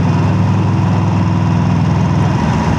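A cruiser motorbike engine runs steadily close by with a deep, continuous low rumble that stays even throughout, with no talking.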